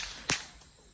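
A single sharp bullwhip crack, bright and close, standing out against a quiet background.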